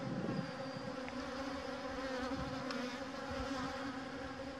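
Honeybees and drones crawl over brood comb inside an open Dadant hive, giving a steady, faint, close buzzing hum throughout with no talk.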